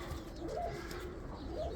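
Black Widow breeder pigeons coo softly in a stock loft, two low rolling coos rising over steady background noise.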